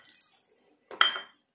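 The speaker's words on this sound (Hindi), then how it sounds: "ये हम मिक्स कर देते हैं।" Dal makhani ingredients are stirred in a metal pot, giving one short, close clink and scrape of a utensil against the pot in an otherwise quiet kitchen.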